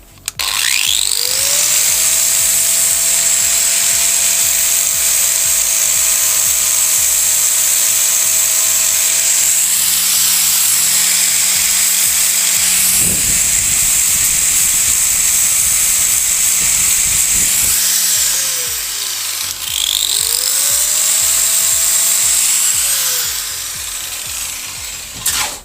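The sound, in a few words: power tool grinding down high welds on metal sculpture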